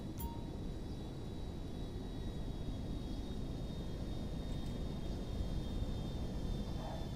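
An airplane lands in GTA 5, heard as a continuous broadband engine and wind roar with a faint steady whine, level and unbroken from start to finish.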